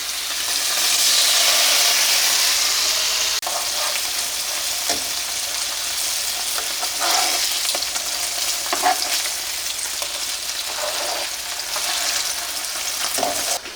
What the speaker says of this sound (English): we're just gonna sear our breasts in the bacon grease for about 2 minutes aside